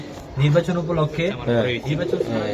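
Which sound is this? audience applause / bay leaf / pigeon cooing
pigeon cooing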